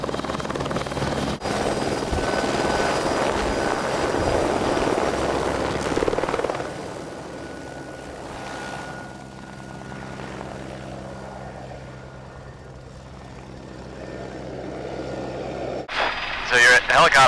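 A helicopter's rotor thrums steadily throughout, loud and close as if heard from inside, with a brief louder burst near the end.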